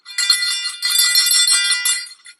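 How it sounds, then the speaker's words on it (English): A silver sleigh bell is shaken in a few quick bursts, a bright, shimmering jingle that is close and clear, pausing briefly between shakes before trailing off. "I shook the bell."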